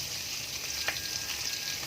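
Steady bubbling and sizzling from soup boiling in a pot on the stove, a continuous hissing texture with one brief louder pop midway, no voices.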